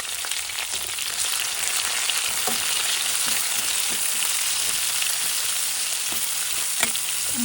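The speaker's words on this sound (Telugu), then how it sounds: "ఈ ఆయిల్ వేడయ్యాక మనం ఆల్రెడీ కట్ చేసి పెట్టుకున్నాం కదా స్లైసెస్ ఆనియన్స్ని దీంట్లో హాఫ్ యాడ్ చేస్తున్నా" Sliced onions fry in hot oil with a loud, steady hiss and crackle close by, dotted with faint utensil clicks.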